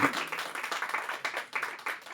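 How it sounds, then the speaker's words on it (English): Audience applause at a Women's Day opening ceremony for a music group, a dense, steady clatter of many hands clapping for the whole stretch with small swells, no voices over it. "Give her a big applause."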